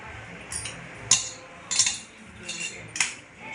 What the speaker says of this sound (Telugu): నెక్స్ట్ స్పూన్తో కలుపుతున్నాను గోధుమ పిండి బెల్లం కరిగించుకున్నది.